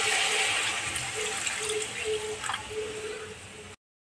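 Water poured into a pan of cooked-down curry masala for banana kofta, a steady watery splash and gush heard close by for several seconds, with no talking over it.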